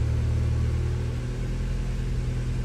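A Honda B16 car engine idles steadily at about 1143 rpm, a low, even rumble with a constant hum and no revving, close by and with no voices.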